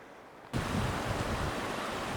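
Steady broadband rush of flowing water in a silty Sierra Nevada mountain creek starts abruptly after a brief quiet moment, then continues evenly and fairly loud, like a nearby creek.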